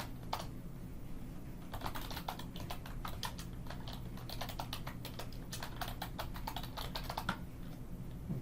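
Rapid, steady keystrokes on a computer keyboard clatter in dense bursts with brief pauses, close and fairly quiet over a constant low room hum, with no speech.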